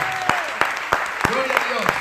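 A church congregation breaks into applause during a Spanish-language sermon, with strong rhythmic claps landing in a steady beat under a singing or chanting voice.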